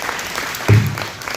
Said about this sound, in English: Give them a good hand clap.